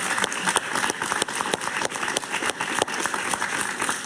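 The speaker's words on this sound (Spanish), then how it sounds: "Un aplauso para Enrique, por favor." A television studio audience on a talk show applauds a guest with brisk, crisp clapping, a continuous patter of individual claps close by, with no voices over it.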